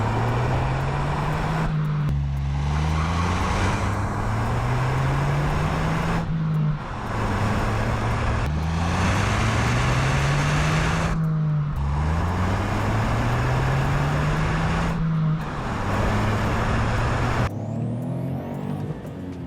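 A 2020 Kia Picanto GT with dual exhaust tips is driven hard, its engine note rising through the gears in repeated loud climbs with brief dips at each shift.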